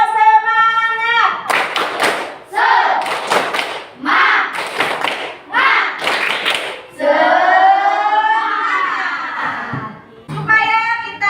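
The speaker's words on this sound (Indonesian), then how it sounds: "Tepuk semangat." A fifth-grade class does a rhythmic spirit clap, tepuk semangat: loud bursts of group clapping in a patterned beat alternate with the children chanting together, close and energetic.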